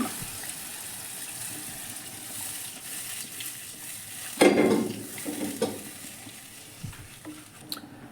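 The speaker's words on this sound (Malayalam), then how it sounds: "പരിപ്പൊക്കെ തിളച്ച് വരുന്നുണ്ട് അതൊന്ന് മിക്സ് ചെയ്ത് കൊടുക്കാം" Cooked dal of lentils with added water simmers in a pot with a soft, wet bubbling, broken by a louder stirring slosh and scrape midway and a few lighter stirs after.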